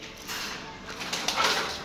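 Pigeons on a rooftop give soft coos and rustling wing movements amid outdoor ambience, with a flutter of activity toward the end and a voice speaking nearby.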